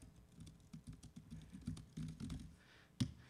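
Rapid keystrokes on a computer keyboard during a TLS/OpenSSL connection demo, irregular clicks in quick bursts, close and fairly quiet, with one sharper louder key strike near the end.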